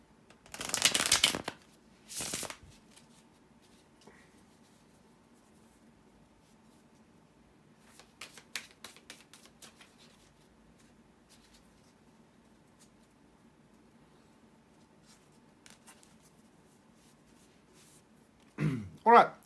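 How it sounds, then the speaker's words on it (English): Tarot cards are shuffled in short papery riffles near the start, followed by soft scattered flicks and handling noises. A final quick burst of card sounds comes at the end over a quiet background. "bear with me a second, guys, to shuffle the tarot cards"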